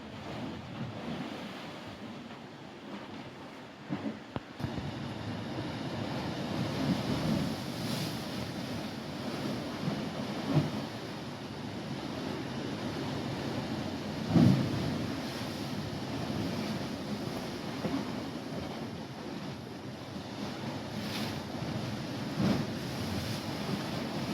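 Ocean waves crash steadily against the rocky shore of Acadia National Park in Maine, a continuous broad roar with a few heavier surges and some wind buffeting the microphone, with no voices.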